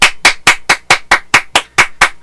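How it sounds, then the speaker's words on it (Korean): Roughly ten sharp, evenly spaced claps ring out close and loud in a steady rhythm at a church Bible study gathering. There is no talk between the claps. "우리 하나님 앞에 정말 감사의 박수 한번 드렸으면 좋겠습니다"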